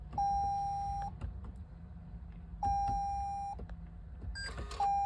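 Toyota C-HR dashboard chimes as the ignition is switched on with the power button: three clear, sustained electronic beep tones, each lasting about a second, spaced a couple of seconds apart, near and alone over a low background hum.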